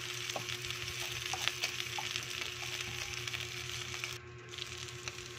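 Garlic and onion sauté in a little oil, giving a soft, steady sizzle with faint crackles and occasional light scraping of stirring, quiet and close throughout.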